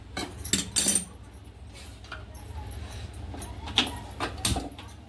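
A spoon clinks and scrapes irregularly in a pan as a semolina, banana and khoa modak mixture is stirred. The soft clatter comes close by, with bursts of louder knocks.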